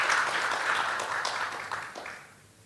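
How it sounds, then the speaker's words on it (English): An audience applauds a panel of speakers at a tourism and creative economy event, a brief burst of clapping heard from a distance that fades out over a few seconds. "Please give a big round of applause to our panelists"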